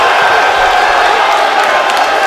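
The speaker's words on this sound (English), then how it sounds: "look at the crowd's gone wild" Boxing arena crowd roaring and cheering wildly after the referee stops a fight, a dense, steady wall of whoops and applause filling the hall at constant loudness throughout.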